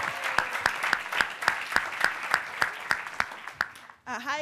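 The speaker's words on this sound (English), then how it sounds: "So can we give her a round of applause?" A conference audience at a Black student athlete summit gives a round of applause, heard as a steady run of sharp, evenly spaced claps that stops abruptly, followed by a brief burst of speech.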